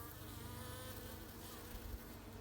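Honeybees bringing fresh pollen into the hive fill the air with a dense, continuous buzzing, steady and close throughout, with no voices.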